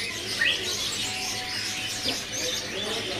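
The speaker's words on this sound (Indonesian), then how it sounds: "Di sini ada burung rambatan paruh merah ya" Freshly stocked red-billed rambatan birds at a bird kiosk keep up a soft, continuous twittering, with a few sharper chirps rising from the chorus at a modest distance.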